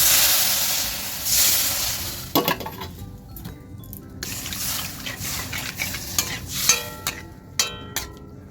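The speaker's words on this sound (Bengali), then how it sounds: "তারপর এখানে চিংড়ি মাছগুলো ভেজে নিচ্ছি" Prawns fry in a pan on a gas stove with a steady hiss at first, then sizzling mixed with sharp scraping and clinking of a utensil stirring against the metal pan, close by.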